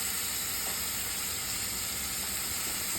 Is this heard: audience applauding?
no